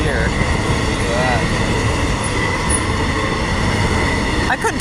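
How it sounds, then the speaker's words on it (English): A big freight train rolls past close by, its loud steady rumble and wheel noise filling the whole stretch with faint squeals rising now and then. "Pretty big train."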